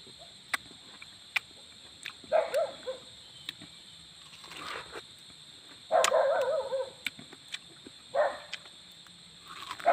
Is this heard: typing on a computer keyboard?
no